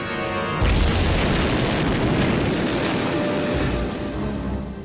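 A one-kilogram bomb explodes close by with a sudden loud boom, then a sustained rumbling roar of blast and debris that slowly tails off; a brief tone precedes it.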